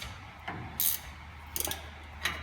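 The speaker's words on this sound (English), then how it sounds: "Ratcheting wrenches, these ones aren't selectable, you just flip them over." Short bursts of clicking from a cheap non-selectable ratcheting wrench tightening nuts on coilover brackets in a truck suspension install, a few brief ratchet runs separated by pauses, close with no talking.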